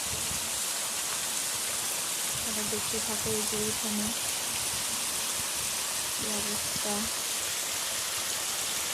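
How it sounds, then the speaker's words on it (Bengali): Heavy rain pours steadily onto a house yard, a dense continuous hiss throughout, while a person talks briefly over it. "ঝমঝম করে বৃষ্টি আসছে"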